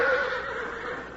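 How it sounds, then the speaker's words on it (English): A horse whinnies in a short, bright, descending neigh, loud and close, heard alone for about a second. "A herd of wild horses blazing their way across the plains of the west."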